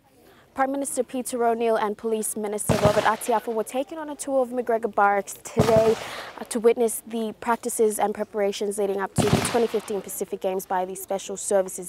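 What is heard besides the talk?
gunshots from police training practice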